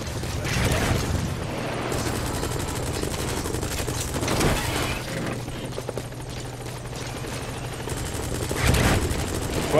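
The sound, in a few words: gunfire in video game Metal Gear Solid V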